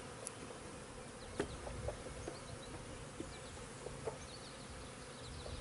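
Honey bees buzzing around an open hive during an inspection, a faint, continuous drone with scattered individual bees passing close by.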